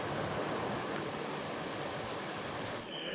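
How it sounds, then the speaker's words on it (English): River water rushes in a steady, close broadband wash with no breaks, heard during rain. "I'm in the river."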